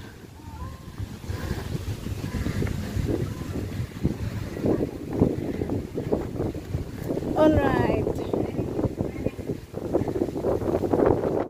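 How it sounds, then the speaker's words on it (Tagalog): Gusty wind buffets the microphone along the Lachine Canal walking path in Montreal, a steady rushing roar throughout, with people talking over it and a brief chirping near the middle. "Ang hangin talaga. Mahangin talaga."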